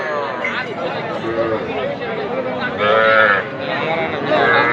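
Young heifer calves and other cattle low and moo at a busy Aftabganj cattle market, several long calls rising over steady crowd babble and nearby voices.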